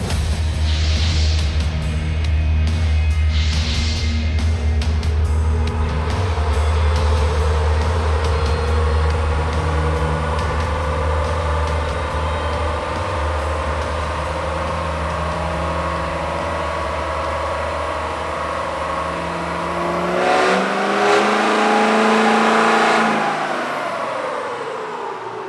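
The diesel engine of a 2021 Duramax L5P truck with a D3 package drones loudly on a dyno for a long sustained pull, its pitch climbing steadily before it drops and winds down near the end.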